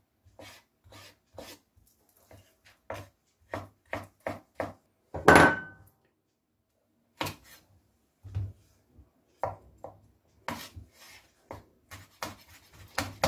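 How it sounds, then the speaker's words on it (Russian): A knife finely chops chili in quick, sharp taps on a board, in short bursts with pauses, plus one louder scraping sweep partway through. "Чили мелко режу"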